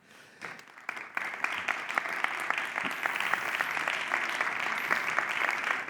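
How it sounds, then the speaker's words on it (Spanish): An audience claps steadily at the close of a public dialogue event on humanist management, creativity, business and culture; a dense, sustained round of applause that builds quickly and holds at an even level throughout. "aplaudámonos por haber llegado justamente hasta este final"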